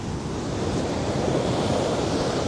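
Ocean waves crash against an exposed rocky coastline, a loud continuous wash of surf mixed with wind buffeting the microphone, with no voices heard.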